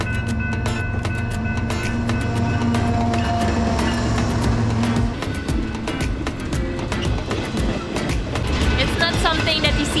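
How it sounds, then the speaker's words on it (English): A train passes along the waterfront by the pier and promenade in White Rock, British Columbia, its steady rumble and rail clatter continuous and fairly loud, with people talking over it. "Oh, there's a train!"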